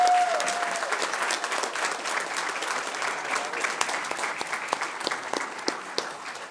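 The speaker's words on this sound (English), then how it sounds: "Let's have an applause as they enter the room" Steady crowd applause fills a school board meeting room as Battle of the Books student champions walk in, dense and sustained throughout with a few sharper individual claps standing out near the end.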